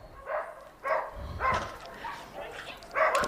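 Dog barks at an agility competition come in several short bursts spread over a few seconds, moderately near against faint crowd and arena background.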